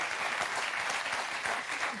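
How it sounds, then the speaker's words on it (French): A television studio audience on a French celebrity quiz game show applauding, a soft, steady patter of many hands clapping throughout, fairly quiet. "Je trouve qu'il y a beaucoup trop d'applaudissements"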